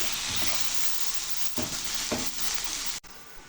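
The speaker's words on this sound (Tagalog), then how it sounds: "Iginta ko ng sibuyas at bawang at ilagyan ko siya ng kamatis para healthy." Onion and garlic sautéing in a pan for chicken adobo, a steady close hiss and crackle of frying with a few louder stirring scrapes, no voices over it.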